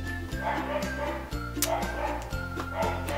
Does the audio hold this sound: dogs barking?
yes